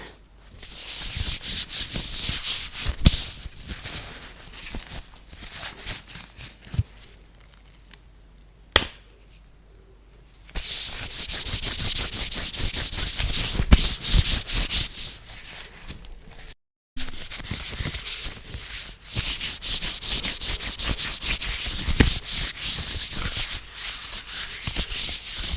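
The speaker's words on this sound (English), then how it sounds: "I'm rubbing my hands maniacally for my expert schemes, my expert plans." Hands rub together vigorously and continuously in a close, intimate setting, producing a dense swishing friction that pauses briefly midway and then resumes, loud and steady with no talking.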